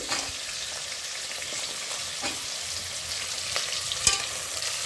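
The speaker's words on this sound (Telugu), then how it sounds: "ఇప్పుడు మనం కట్ చేసుకున్న క్యారెట్ ముక్కలు వేసుకుందామండి" Cut carrot pieces sizzle and fry steadily in a pan while cooking soya biryani, with a continuous crackle, occasional stirring scrapes and a sharper clink near the end, no talking.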